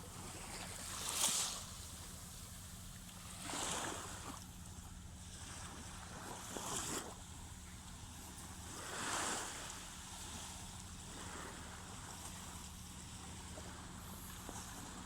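Waves wash onto SSK beach in Turkey in slow surges every few seconds, each swelling and fading over a low, steady wind rumble.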